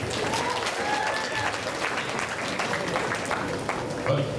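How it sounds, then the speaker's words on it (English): Audience applause at a wedding reception as a speaker is called up to the dais, a steady wash of clapping that holds for several seconds with some voices mixed in. "And a big round of applause for Dave"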